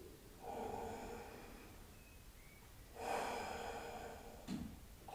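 Slow, deep breaths drawn in and pushed out through the nose during a yoga flow, a few soft hissing inhales and exhales with quiet gaps between them.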